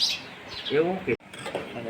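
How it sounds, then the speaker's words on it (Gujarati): Faint sparrow chirps twitter in the background of a village kitchen while kadhi is cooked, mostly buried beneath a nearby person talking, with brief bright tweets near the start. "બેકગ્રાઉન્ડમાં તમને સંભળાવતું છે ચકલા બોલે છે ઝીણા ઝીણા"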